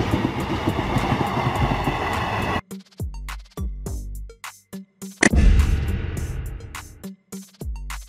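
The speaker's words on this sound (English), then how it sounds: "Container train. A type of freight train specifically designed to carry shipping containers" A container train, a freight train carrying shipping containers, rumbles past in a loud, dense wash of rolling noise for a few seconds before the sound cuts off.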